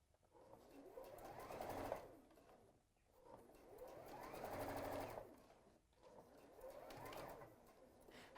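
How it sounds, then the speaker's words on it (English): A domestic sewing machine stitches a dart in fabric in three long runs of fast, even whirring, each rising and then easing off, with brief pauses between runs while the needle stays down. "pause with the needle down, and then just sort of readjust all this and sew along the last bit."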